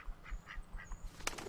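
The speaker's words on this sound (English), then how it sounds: "Oh, can I eat the duck?" A duck quacks and honks in the video game Bear Simulator, a series of short calls over low background game sound, fairly faint.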